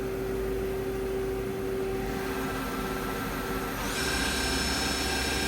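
A used 2014 Doosan Puma 2600Y CNC lathe spins its spindle at 1000 RPM, giving a steady, close machine hum with a thin whine on top that shifts and brightens slightly partway through, with no talking.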